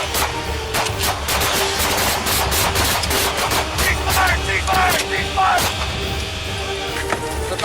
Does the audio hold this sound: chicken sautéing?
no